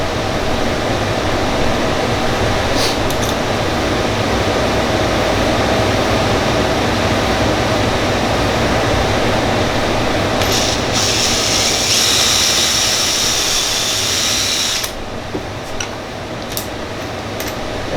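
A drill bit boring into a marble tic-tac-toe board, giving a continuous grinding whir with a brighter, harsher stretch partway through before it eases off near the end.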